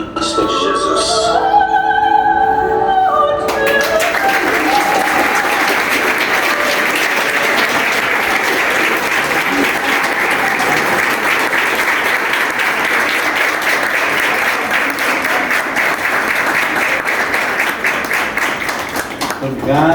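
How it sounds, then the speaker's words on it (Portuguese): Sustained applause fills a hall during a tribute to painter Benedito Calixto, steady dense clapping from a crowd lasting throughout, with brief voices and music audible at the very start before the clapping takes over. "Todos os aplausos de homenagens são para Benedito Calixto de Jesus."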